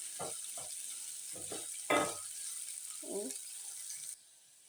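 Onions fry toward golden brown in a pan, giving a faint steady sizzle broken by several short bursts of stirring and clattering, heard close with no talk.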